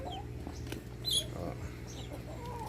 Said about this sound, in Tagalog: alaga nating Rhode Island chicken. Ayan, nag-aantay na sila ng pagkain.